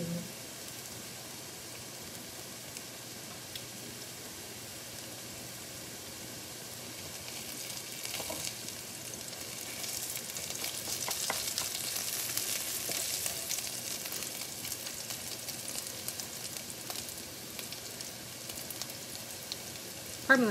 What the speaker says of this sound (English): So it's been frying a little bit longer than the rest.